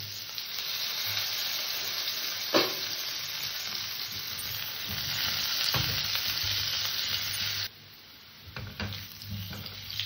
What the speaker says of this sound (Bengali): আলুটাকে আমি গ্যাস একদম ছোট করে দিয়ে একটু ঢাকা দিয়ে ভাজবো।